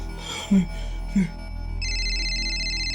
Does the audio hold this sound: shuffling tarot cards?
no